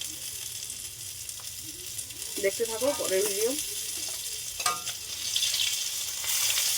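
Hot oil sizzles and crackles steadily as fish fries. Someone talks briefly over the frying partway through.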